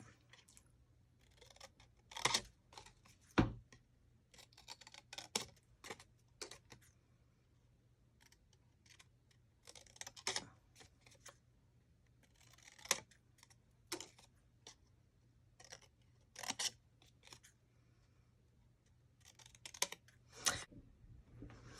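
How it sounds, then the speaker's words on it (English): Scissors cut a star shape out of paper in a quiet room, making sparse, faint snips and clicks at an irregular pace. No one speaks. "just cutting the shape of the star out"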